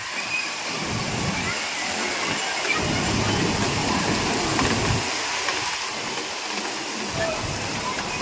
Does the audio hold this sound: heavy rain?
yes